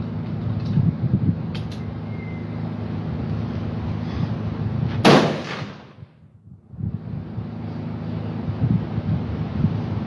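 A single sharp gun blast about midway, loud and close, followed by a brief dip in the steady low background hum before it resumes.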